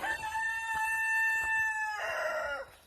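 A rooster crows loudly and close by, one long drawn-out call with a rising middle and a falling tail, heard on its own.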